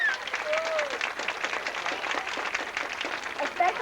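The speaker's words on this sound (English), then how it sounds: "Let's give a round of applause to our 1988 homecoming queen, Kim Curtis, and her court." A crowd applauds at a 1988 high school homecoming football game, with dense, sustained clapping and a lively crowd murmur throughout, staying loud for about four seconds.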